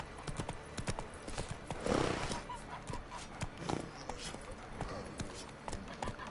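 A horse gallops in the video game The Witcher 3, with rapid rhythmic hoofbeats throughout, a short whinny mid-way and game voices over the top.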